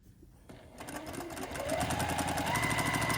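A sewing machine chain pieces quilt blocks, starting softly then running up to a steady, loud whirring stitch with a rapid mechanical rhythm close by.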